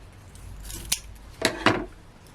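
Scissors snip through craft card sticks, cutting them in half for festive Christmas card-making: three crisp, close cuts in quick succession against a quiet room.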